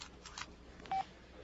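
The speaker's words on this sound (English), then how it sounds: "I'm phoning my lawyer right now." Telephone being dialed as a radio drama sound effect, a few short dialing tones and clicks in quick succession, faint and close, with no talk.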